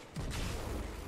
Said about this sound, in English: You and your dang tractor cannon.